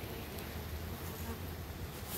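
Honeybees drone softly while a bee package is installed into a hive, a faint continuous buzzing hum that stays steady and unbroken.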